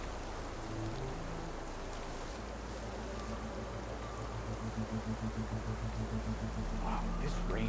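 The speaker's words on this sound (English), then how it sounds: "Wow, this rain ever stop?" Steady rain falls in the video game Horizon Forbidden West, a constant hiss of drops under a low droning music bed, moderately quiet and unbroken throughout.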